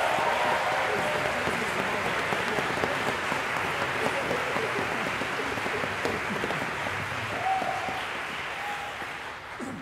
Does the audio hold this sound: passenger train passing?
no